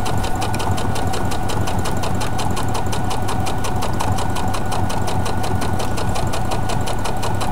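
Sewing machine stitching fabric petals down on a Dresden plate quilt candle mat, a fast even rhythmic whir running continuously and close by with no talking.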